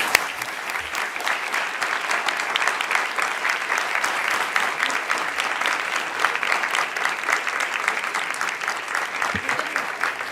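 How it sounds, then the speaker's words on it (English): Sustained audience applause closing a NASA educational event about space discoveries and life on other planets, dense steady clapping throughout with no talk over it. "Let's have another round of applause."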